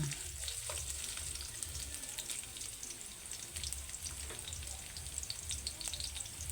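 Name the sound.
ginger frying and browning in a pan for chicken curry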